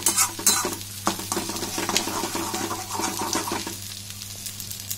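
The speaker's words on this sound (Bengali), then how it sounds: "আস্তে আস্তে ডিমটা জমতে লেগেছে, কন্টিনিউ নেড়ে দিতে হবে" Egg bhujia with potatoes is stirred in a pan, with clattering spatula scrapes and taps over a soft sizzle that quiets toward the end.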